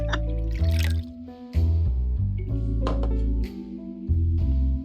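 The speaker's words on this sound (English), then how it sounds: "I just want to hear the sound of the pouring of the wine." Wine glugs and drips as it pours in the video game Man of Nollyn, wet liquid trickles and splashes layered over steady game music tones, no voices.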